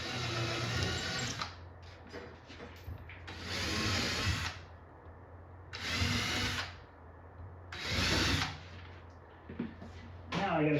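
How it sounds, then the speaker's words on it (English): Drill boring holes in an arcade cabinet panel, whining in four separate bursts of a few seconds each, with quiet gaps and a soft voice between them. "Got a drill bit here I think is a good size for these holes."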